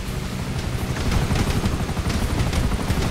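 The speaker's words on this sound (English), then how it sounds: "Chopper! Right behind us!" A helicopter gives chase in the video game Grand Theft Auto 5, its rotor producing a loud, dense, steady thumping roar with rapid rhythmic pulses throughout.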